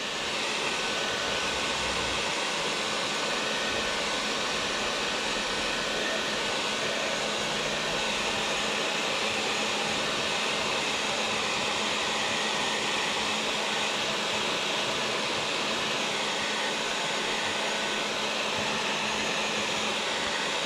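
Heat gun blowing steadily on Monokote covering of an RC airplane, a continuous airy roar that holds at a constant loud level throughout with no talking.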